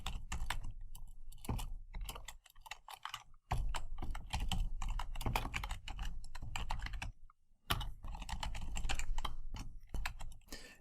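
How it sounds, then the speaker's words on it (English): Rapid clicking keystrokes on a computer keyboard run in close, steady bursts with a few short pauses, no voice present. "we can just simply type in a couple of things"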